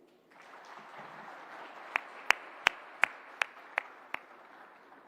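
A tech awards audience gives a soft wash of applause that thins out. About seven sharp, distinct claps ring out near the end.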